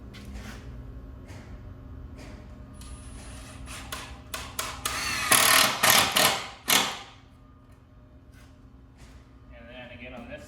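A power driver sets screws into a cedar picnic table, giving a short loud whirring burst midway after scattered clicks and taps, with a person talking faintly in the background.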